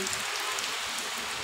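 Steady rain falls in a town on a school morning, a dense, even hiss with scattered drops hitting surfaces nearby and no voices.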